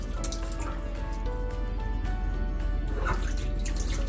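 Tap water runs steadily into a sink while raw chicken, including cut bone-in pieces, is rinsed and washed, a continuous close splashing stream with faint dripping, no voices.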